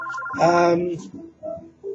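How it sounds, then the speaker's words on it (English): A phone rings in a room, its electronic ringtone chirping in short bursts alongside a person talking nearby. "And I know my phone's ringing."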